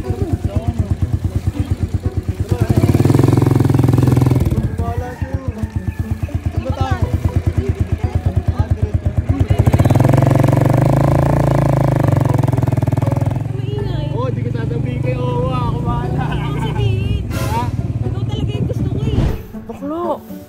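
A motorcycle engine runs and revs unevenly nearby, rising and falling in pitch, with people talking over it throughout.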